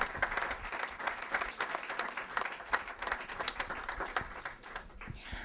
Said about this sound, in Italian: Facciamo un applauso a Ciccio che è qui con noi.